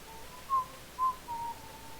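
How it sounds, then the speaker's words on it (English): Someone whistles softly nearby, a few short tones, two slightly louder notes followed by a longer held one, with nothing else going on. "I probably shouldn't be whistling on stream."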